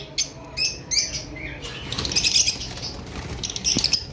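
Small birds on a Bengali bird farm, finches or lovebird-type pairs, chirp in quick high bursts while wings flutter and flap nearby, with a soft patter of movement in an enclosed aviary.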